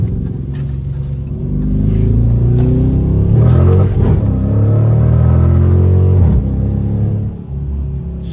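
A 2019 Dodge Charger R/T V8 pulls hard from inside the cabin, its deep engine note rising steadily in a loud, sustained rumbling surge, then easing off near the end with no talking.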